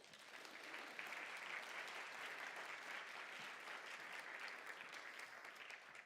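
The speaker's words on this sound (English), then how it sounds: "I'd like to just give them a round of applause" Audience applause at a startup showcase event, steady and fairly faint, with many hands clapping at even strength for several seconds before it starts to thin out.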